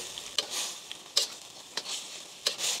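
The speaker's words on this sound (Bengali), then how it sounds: "কর্নফ্লাওয়ারগুলো দেওয়ার সঙ্গে সঙ্গে অবশ্যই নেড়ে নিতে হবে, তা না হলে জমাট বেঁধে যাবে।" A spoon stirs cornflour into chicken and vegetables in a pan, giving soft scraping strokes and a few sharp utensil taps against the metal over a faint sizzle, quiet and close with no talking.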